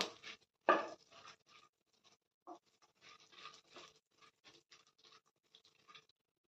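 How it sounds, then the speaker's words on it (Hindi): Finely chopped almonds stirred while frying in a pan, heard as quiet, irregular scraping and rattling scratches of a spoon against the pan, with short bursts and small gaps. "अब लेंगे बादाम बारीक कटी हुई और इसे चलाते हुए अच्छे से फ्राई करेंगे"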